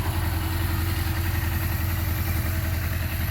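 A 1978 Suzuki GS750 E motorcycle engine idles steadily up close, a continuous low, even rumble with no talking.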